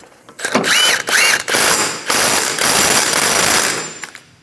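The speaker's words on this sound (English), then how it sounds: "Install the axle nut. And we'll use a 30mm axle nut socket." A 30mm axle nut socket on a ratchet tightening the front axle nut of a 2008-2015 Scion xB, loud close clicking and mechanical bursts in several runs separated by brief pauses.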